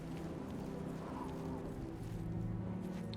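Horse hooves clop in a steady quick rhythm in a video game, a continuous trotting patter close by under a low background hum.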